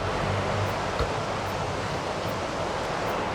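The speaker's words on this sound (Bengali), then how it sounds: "পানির স্রোতের শব্দও পাওয়া যাচ্ছে" Shallow river current running low beside a mountain road in Nepal, heard as a steady, even rushing wash of water with no speech.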